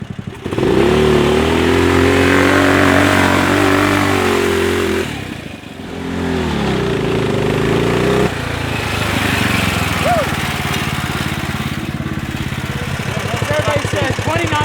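A 420cc golf cart engine accelerates hard at top speed with its muffler on, a loud, steady droning roar that dips briefly mid-run, then surges again, while people talk over it.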